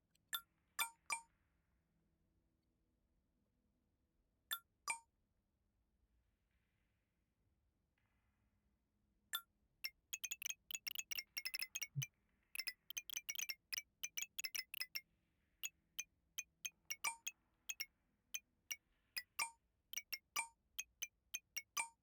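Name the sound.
glass tink of menu sounds in video game Core Keeper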